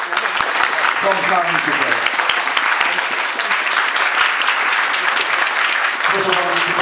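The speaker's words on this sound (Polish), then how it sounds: "Wielkie brawa dla rodziny państwa Olbrychów i państwa Magotów" Crowd at a remembrance ceremony for the Cursed Soldiers in Wieruszów applauds the visiting families, loud sustained clapping throughout with a voice speaking briefly over it.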